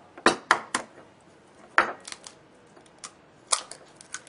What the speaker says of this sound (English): So we break the egg.